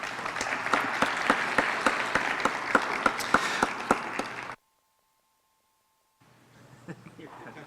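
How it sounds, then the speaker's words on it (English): An audience at a Saskatoon mayoral debate claps steadily for about four and a half seconds. The applause cuts to silence, then faint room sound and a voice return. "Round of applause, please."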